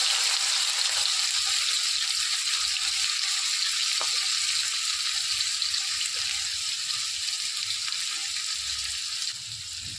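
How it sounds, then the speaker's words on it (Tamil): Mustard seeds splutter in hot oil for a chicken curry, a continuous close frying sizzle with scattered faint pops that fades slightly at the very end; no one speaks. "எண்ணெய் சூடாயிடுச்சு, கடுகு போட்டுக்கலாம்"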